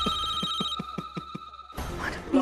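A telephone rings in repeated short electronic bursts of steady rhythm, fairly loud and close, indoors in a Hindi TV drama scene, stopping abruptly before a burst of other noise.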